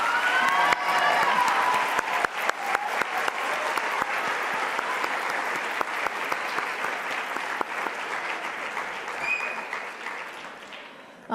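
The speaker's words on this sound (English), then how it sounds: "So let's give them a great big round of applause." Audience at a live event for a survivors' assistance program breaks into sustained applause, a dense crackle of many hands clapping close and loud that slowly tapers near the end, with a few faint cheers.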